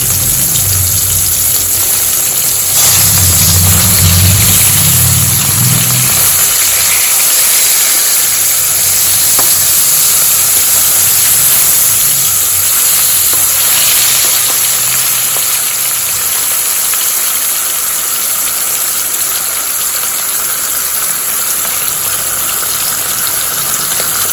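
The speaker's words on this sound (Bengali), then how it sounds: "মাছের দুটো পিঠ ভালো করে ভাজা হয়ে গেছে" Rohu fish pieces frying in hot oil in a wok make a loud, steady sizzling hiss that runs throughout, with a few brief bursts of deeper bubbling near the start.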